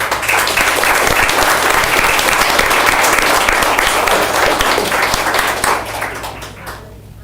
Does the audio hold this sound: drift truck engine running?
no